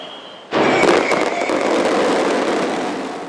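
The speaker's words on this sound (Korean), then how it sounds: "발파 해체 작업을 알리는 오색 폭죽이 터집니다." Colourful fireworks burst to signal the explosive demolition of a former Korea Gas Corporation office building in Bundang, a sudden loud bang followed by crackling and a fading rumble that trails off over a few seconds.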